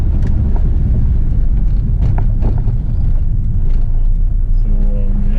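A Toyota Corolla AE111 engine pulls steadily uphill, a loud continuous low rumble with induction roar filling the cabin, wind noise on the mic, and no clear speech over it.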